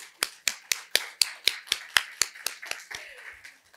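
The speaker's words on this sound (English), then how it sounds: "please give another big round of applause" Sharp, evenly spaced claps ring out about four per second at a forum session, close and distinct rather than a dense crowd, slowly fading toward the end.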